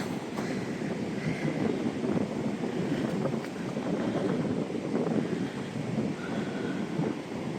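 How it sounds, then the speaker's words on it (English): Wind sweeping across the top of sand dunes, a steady, loud broadband rush with gusty buffeting against the microphone for the whole stretch, and no voices. "It is breezy up here."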